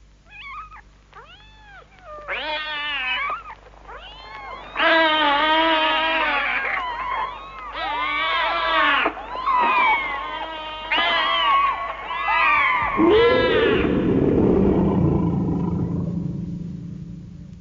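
Cats meow and caterwaul in a run of drawn-out, wavering yowls, loud and close, rising into a long harsh growling wail near the end, with no talk over them.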